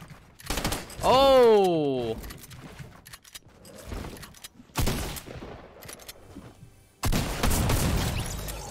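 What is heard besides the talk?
burst SMG gunfire in the video game Fortnite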